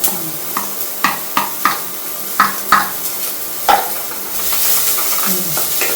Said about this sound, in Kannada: ಅದಕ್ಕೆ ಕಟ್ ಮಾಡ್ರೆ ಈರುಳ್ಳಿ ಹಾಕ್ತಾ ಇದೀನಿ. ಹುಷಾರಾಗಿ ಹಾಕ್ಬೇಕು ಇದನ್ನ. ಚಟಪಟ ಅಂದ್ಬಿಡ್ತಾರೆ.